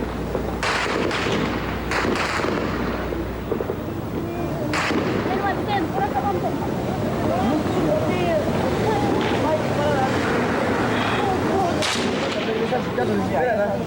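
Gunfire in recorded news footage: sharp bursts of shots crack out at the start and again later over a loud, continuous rushing roar of wind and commotion, with voices mixed into the din.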